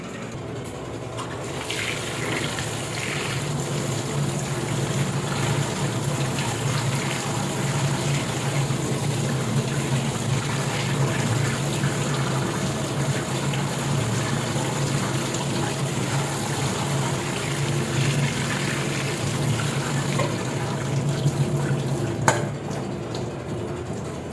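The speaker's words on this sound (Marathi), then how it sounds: "आता ही स्वच्छ 2-3 पाण्याने धुवून घेणार आहे" Fenugreek greens being washed in clean water in a kitchen, a steady sloshing and splashing that runs for over twenty seconds with a few faint clinks near the end, no voices.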